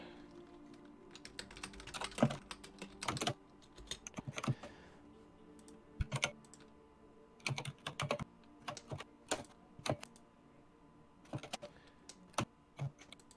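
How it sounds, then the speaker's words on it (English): Keystrokes on a computer keyboard sold as silent but audibly clacky, in quick irregular bursts of typing with short pauses, fairly close and moderately loud in a quiet room. "It's supposed to be a silent keyboard, but it's not very silent."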